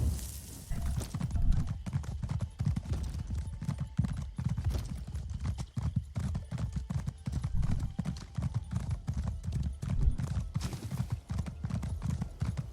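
Horse hooves clip-clopping at a steady riding pace in Elder Scrolls Online, a brisk continuous rhythm of close, low thuds that carries on the whole way, with no talk over it.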